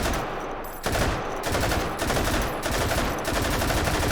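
Loud, close automatic fire from an RPD machine gun in the video game Hot Dogs, Horseshoes and Hand Grenades, running almost without a break as a few long bursts merge into one another.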